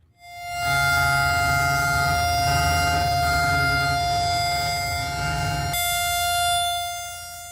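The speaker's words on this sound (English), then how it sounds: "Air raid sirens were sounded earlier today to mark the exact time that the attacks began." Air raid sirens wail across Israel at a memorial marking the first anniversary of the October 7th attacks: a loud, steady, sustained tone that holds for several seconds, then shifts pitch near the end before fading slightly.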